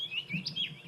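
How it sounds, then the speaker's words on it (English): A robin calls in the bush on a morning safari drive, giving a quick run of thin, high chirps and whistles, fairly close and clear against a low background rumble. "There's two robins there. Actually, there's also a white-browed scrub robin."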